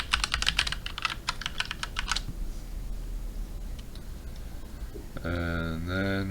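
Rapid clicking keystrokes on a computer keyboard as a password is typed, bursting for about two seconds before stopping; a brief tonal chime follows near the end.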